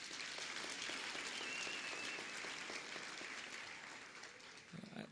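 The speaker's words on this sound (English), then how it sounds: "they deserve just now a good round of applause" An audience at a graduation ceremony gives a sustained round of applause, a dense, even patter of many hands heard from a distance that fades slightly toward the end.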